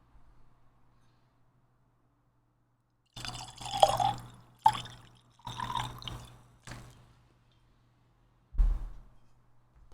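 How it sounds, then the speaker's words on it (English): A drink poured into a glass in several short bursts of splashing liquid, separated by pauses, with a final clink near the end, close and fairly quiet. "I'm pouring myself another drink"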